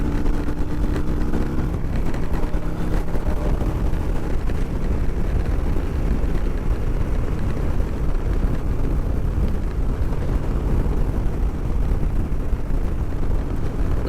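A 2023 Harley-Davidson Road Glide Special with the 114 engine cruises steadily, a loud continuous engine drone mixed with heavy wind rush, unbroken for the whole stretch with no talking.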